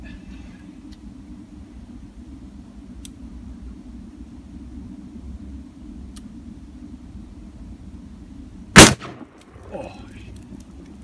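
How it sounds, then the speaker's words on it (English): A full-power .454 Casull load fired from a Ruger Super Redhawk revolver gives one very loud, sharp gunshot against a quiet outdoor hum, followed by a brief echo and faint rustling. "If you haven't shot a 454 full power load yet, I highly recommend earplugs and earmuffs because this is a very loud caliber."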